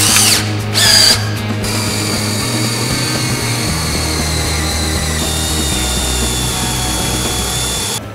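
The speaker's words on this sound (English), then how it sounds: "Next, we'll be taking a 5/16 drill bit and drilling the third hole." Power drill fitted with a 5/16 bit boring the third bolt hole while installing a QA1 rear coilover system on a GM A-body, a steady loud whirring drone with a brief louder burst near the start.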